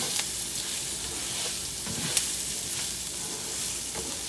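Onions and rice frying in a pan for arroz con pollo, a steady broadband sizzle running close and fairly loud throughout, with a few soft stirring knocks and no talking.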